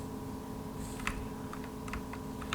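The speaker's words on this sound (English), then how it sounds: "we're gonna press G on our keyboard" A few faint, scattered key presses on a computer keyboard, close but quiet over a steady low hum, with no one speaking.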